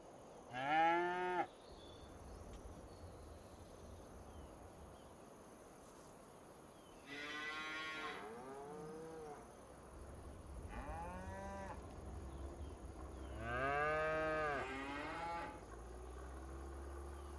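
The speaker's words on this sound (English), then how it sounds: "So we'll just see the cows in, and then here they come." Cows in Farming Simulator 25 give several long, drawn-out moos, spaced across the scene, some close and loud and others softer, over a quiet background hum.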